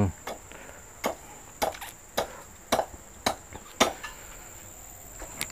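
A mandau machete chops into hard bone, landing about nine sharp, evenly spaced strikes, each a crisp close crack over a faint steady background whine.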